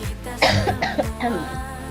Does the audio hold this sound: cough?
yes